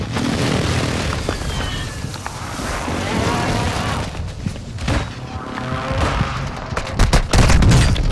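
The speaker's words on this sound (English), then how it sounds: "Enemy precision airstrike." Precision airstrike explosions in Call of Duty Warzone 2.0, loud booms and bursts of gunfire in a dense barrage, with heavy impacts clustered toward the end.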